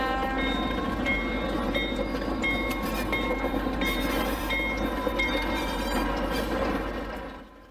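An empty wooden-slatted Western Pacific freight cattle car rolls past close by in a steady, loud rumble of wheels and rail noise that fades away at the end; no voices.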